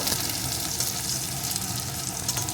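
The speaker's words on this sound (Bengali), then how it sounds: "এখন লঙ্কাটা পেঁয়াজ একটু নাড়িয়ে নেব" Chilli and onion fry in a pan while being stirred, producing a dense, even sizzle at close range with no pauses.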